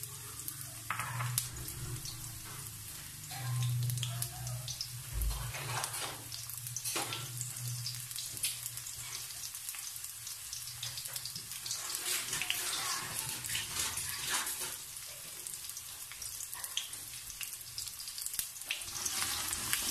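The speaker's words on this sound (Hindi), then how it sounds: "ऑनियन डाल दूंगी, प्याज।" Chopped onions frying in hot oil in a pan for a mutton liver masala, a steady broadband sizzle with occasional crackles running throughout, close and fairly even in loudness.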